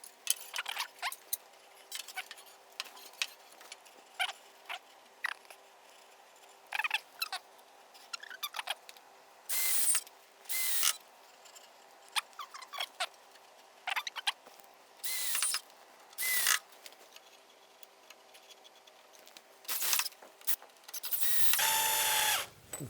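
Someone drives screws into the wooden frame of a freestanding CoreAlign tower during assembly: repeated short clicks, scrapes and brief bursts of a close driver, irregular and fairly quiet with pauses between, no talking.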